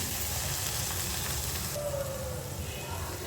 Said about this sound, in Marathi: त्यानंतर मी वटाणा टाकणार आहे यामध्ये वटाणा छान परतून घेते